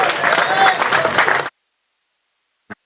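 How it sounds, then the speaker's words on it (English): Cricket crowd at a Yorkshire v Worcestershire Rapids T20 Blast match cheering and applauding loudly for about a second and a half, then cutting off abruptly into silence, with a brief faint burst near the end. "It's getting lively, the crowd now."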